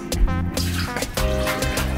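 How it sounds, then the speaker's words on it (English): Liquid juice is poured off canned food into a sink while preparing vegan chicken, giving a close, splashing water sound in several bursts with brief pauses, and no talk. "Then I pour the juice off of them."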